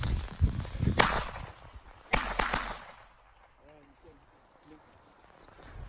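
Firecrackers go off outdoors in a rapid cluster of sharp cracks, then a second burst of several close, loud bangs. Scattered crackling follows and fades, with a person talking faintly near the end.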